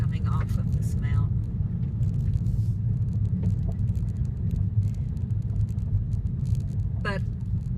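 A car drives down a bumpy gravel mountain road in the Ozarks, a steady low engine and tire rumble close up, with occasional light rattles and brief higher noises on top.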